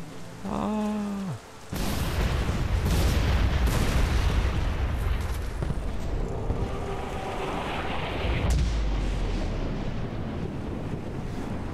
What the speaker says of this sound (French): L'explosion n'est pas très belle